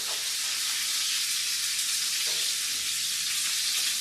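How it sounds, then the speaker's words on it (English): Short ribs searing in a hot pan, a continuous bright sizzle and hiss that holds steady and close for a few seconds with no talk over it. "So this is the sear that we're trying to get."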